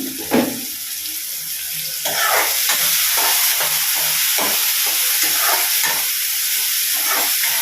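Soya chunk gravy with turmeric and salt sizzling in a pan while a spoon stirs it in repeated scraping strokes, frying steady and close throughout with no talking.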